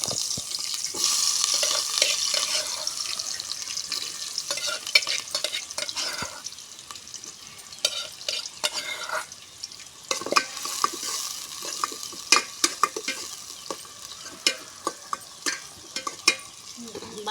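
Sliced onions sizzling in hot oil in a pan while being stirred, a steady frying hiss with scraping and clinking spatula strokes, close up and without talk.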